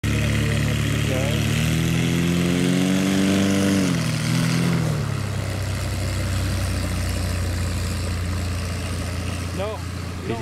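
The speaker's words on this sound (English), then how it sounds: "This is just an example of the airplane not running well, so the takeoff could not happen." A light airplane engine runs rough during a takeoff roll that is aborted. Its droning hum wavers and sags in pitch, then settles into a lower, steady rumble, close and loud.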